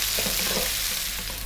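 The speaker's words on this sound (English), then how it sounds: "I'm going to add 1 cup of onion, and we're going to go for about 4 minutes," Onions frying in a pan over medium-high heat for a Bengali fish curry, a steady close sizzle with the soft scrape of stirring running through the whole stretch, no voices.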